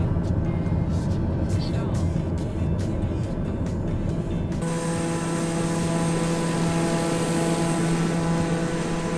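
A Daher TBM 930 turboprop takes off in Microsoft Flight Simulator, its engine a loud continuous drone whose tone shifts partway through, with a person talking over it.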